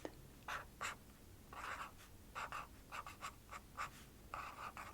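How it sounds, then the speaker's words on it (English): Pen strokes on a pink-lilac card, soft scratchy writing in short bursts separated by brief pauses, close and quiet with no talking. "We'll use this sort of lilac-y pinky one, and we'll write"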